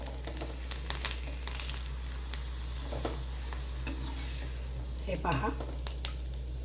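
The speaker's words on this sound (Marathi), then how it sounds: "तिप्पट आपली ही पापडी ही तेलामध्ये फुललेली आहे." Sabudana papad frying and puffing in hot oil, a continuous close sizzle with crackling bursts and brief stirring scrapes; someone speaks briefly over it.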